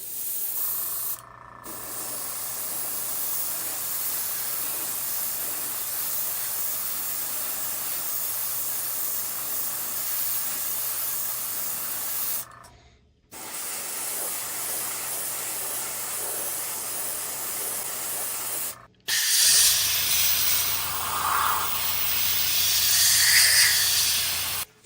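Red paint hisses from a spray can or airbrush onto a model starship, long steady bursts broken by short pauses, loud and close, with a hum underneath.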